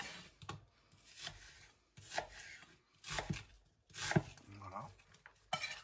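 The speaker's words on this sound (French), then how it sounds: "Je vais me couper grossièrement mon oignon comme ceci." A knife coarsely cuts an onion on a board in a quiet kitchen while a Senegalese mafé is being prepared, giving separate bursts of chopping and scraping strokes with short pauses between them, all at close range.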